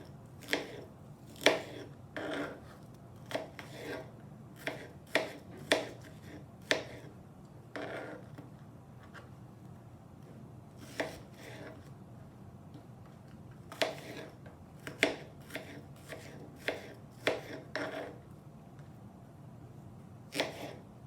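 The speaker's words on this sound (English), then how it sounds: "we're just going to kind of chop this up as well" Guacamole ingredients being chopped with a knife on a cutting board: sharp, close taps come in irregular bursts over a quiet background, with pauses between groups.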